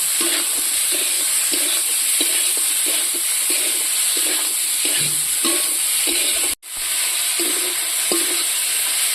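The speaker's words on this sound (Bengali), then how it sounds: "দিয়ে ভালো করে মশলাটা দিয়ে কষিয়ে নেব" Ground spices and black pepper sautéing in oil with chicken and banana flower, a steady close sizzle with repeated rhythmic scrapes of a spatula stirring and one brief dropout.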